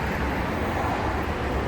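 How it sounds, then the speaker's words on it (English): Steady, loud roar of road traffic fills the whole moment, a dense rumble of passing vehicles with no breaks and no voices. "Traffic is so loud."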